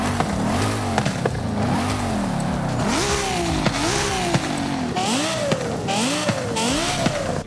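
A Lexus LC 500 engine in the racing game Forza Horizon 5 revs repeatedly, each pull rising in pitch then dropping through gear changes, loud and close with a rough mechanical edge, no talking.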